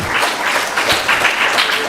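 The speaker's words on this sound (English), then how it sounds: "give them a big round of applause again" Audience applause at a Sunday feast program, a short burst of dense, even clapping from a gathered crowd.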